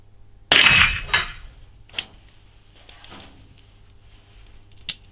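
A Little Badger .22LR rifle fires at metal targets on a dueling tree, with one loud sharp crack and ringing metallic ping followed by fainter, spaced shots and impacts.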